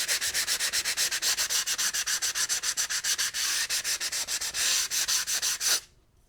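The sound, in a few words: hand sanding glass edge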